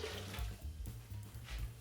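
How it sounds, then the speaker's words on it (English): Nearly boiling, steaming water is poured into a cup of sugar to make simple syrup for a home bar, giving a steady, continuous splashing flow heard up close throughout. "our cup of nearly boiling steamy water,"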